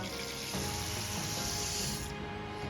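Moong dal poured into a bowl of water for washing, a steady hissy wash of water and falling lentils that thins out near the end, faint and close.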